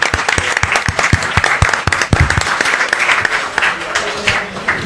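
A podcast festival audience claps and applauds steadily to welcome a guest on stage, dense sustained clapping throughout with faint voices beneath.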